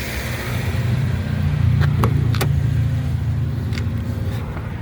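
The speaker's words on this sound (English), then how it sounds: "We'll rev it up a little bit." A 2014 Subaru Outback 2.5 engine idling close by, its low steady hum swelling slightly in a brief mild rev and settling again, with a few sharp clicks.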